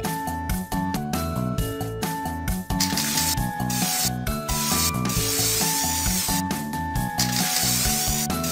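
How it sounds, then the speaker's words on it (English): In a kids' pony makeover video game, a spray bottle is shaken and then sprays with short hissing bursts, all set against loud, continuous upbeat pop music. "Shake it and spray it."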